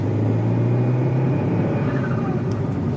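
A 1987 turbocharged car drives along an uneven road, its engine giving a loud steady low rumble with a rising tone near the end.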